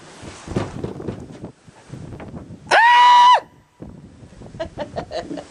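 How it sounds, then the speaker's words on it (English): A person lets out a big high-pitched scream, one loud sustained shriek of under a second amid clattering and shuffling sounds. "Maybe a big high-pitched scream he'll hear, right?"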